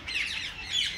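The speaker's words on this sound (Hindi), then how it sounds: "ये सब ब्रीडिंग रिंग नेक," Ring-necked parakeets in a breeding aviary give a pair of harsh, scratchy squawks, fairly close and moderately loud.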